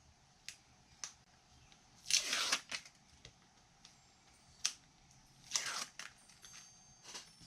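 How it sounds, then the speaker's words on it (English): Tape backer peeled off a crafted Christmas notebook, two short crisp ripping strips standing out among faint scattered taps and handling noises, close and quiet. "I'm just going to peel away my tape backer"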